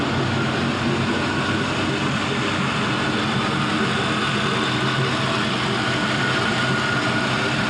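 A GM LS 5.3-liter V8 engine idles while warming up, producing a steady, loud, continuous rumble with no change in pace or pitch and no talking.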